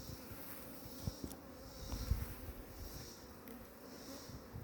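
Honey bees buzz around an open hive full of honey frames during beekeeping. Their faint, continuous droning hum is close by, with a few soft knocks mixed in.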